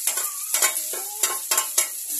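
Onions frying in a hot pan with ginger-garlic paste, sizzling steadily while a spoon scrapes and stirs in repeated strokes roughly every quarter second, close up with no talking.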